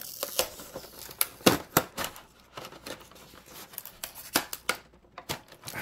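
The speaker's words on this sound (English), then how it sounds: "How aggressively I'm taking this tape off" Tape torn aggressively off a Cthulhu: Death May Die board game box, a rapid string of sharp ripping and crackling bursts, close and uneven in rhythm, with no talking.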